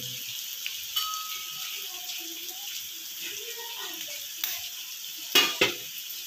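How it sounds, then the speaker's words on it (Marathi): Village egg cracked into a hot pan of sizzling garlic, onion and tomato masala with chili, turmeric and goda masala for bhurji. A soft, steady sizzle runs throughout, with a couple of sharp cracks and splatters near the end and faint talk. "आता मी अंड फोडते"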